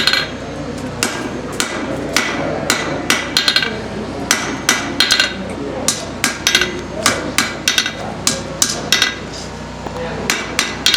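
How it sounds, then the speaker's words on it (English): A blacksmith strikes hot metal on a Fisher anvil while forging the reins of tongs, a steady run of sharp, dull hammer blows in a quick, uneven rhythm, close and loud, with little ringing. "Don't you just love the sound of that anvil?"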